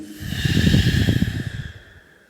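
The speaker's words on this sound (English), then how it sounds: "Release a little. Breathe out." A long, audible exhale during a guided yoga breathing exercise, a close, breathy rush of air that swells and then tapers off over about two seconds, with no talking.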